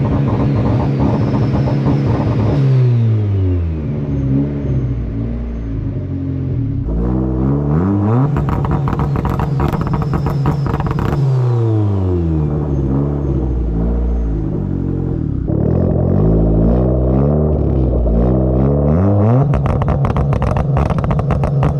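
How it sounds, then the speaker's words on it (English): Tuned turbocharged car running aggressive rolling antilag with pulled ignition timing and added fuel enrichment. The engine revs up and down in repeated sweeps while the turbo spools and the exhaust crackles, loud and close throughout. "I can definitely hear the turbo trying to spool a lot harder now"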